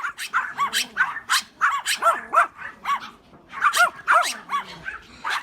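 Dogs on a farm at Baruta near Port Pirie, kept in squalid conditions, bark repeatedly in overlapping, rapid bursts at close range, several animals calling continuously.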